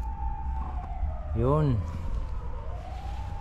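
A fire truck siren passes by outdoors with a clear rising and falling wail that swells loudly midway, while a voice speaks briefly nearby.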